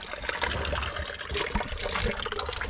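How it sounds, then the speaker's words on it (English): Sugar water being splashed outdoors at a country park, a steady wet trickling and pouring wash of liquid that runs continuously and fairly close throughout. "Now I splash sugar water."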